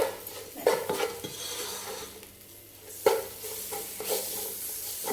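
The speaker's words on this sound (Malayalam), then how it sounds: "ഇനി ആ തക്കാളിയും കൂടെ ഞാൻ ചേർക്കാം" Tomatoes stirred into a hot pan of fried spice powders for a meat roast, with steady sizzling and frying plus sharp scrapes and clinks of a spoon against the pan, loud and close with no talk.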